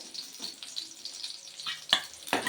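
Green chillies frying in a pan give a steady soft sizzle, with a few brief spatter bursts near the end.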